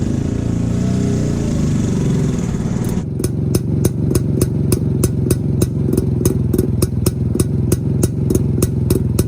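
A 1970 Jawa 353 250cc two-stroke motorcycle with dual exhaust idles, then settles into a loud, close, rhythmic popping of regular exhaust beats.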